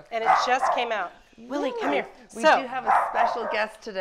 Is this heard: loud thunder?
no